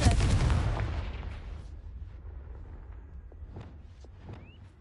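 A Confringo spell blast in a video game: a loud booming explosion bursts at the start and rumbles away over several seconds, with faint scattered clicks and a brief rising whistle near the end.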